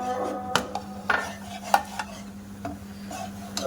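Bread crumbs are stirred into boiling milk in a pan, with a spoon scraping and knocking against the metal at irregular intervals over a low simmering hiss and a steady hum; nobody speaks.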